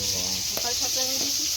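Brinjal slices fry in a pan with a constant bright sizzle and hiss, while a voice talks faintly over the cooking noise.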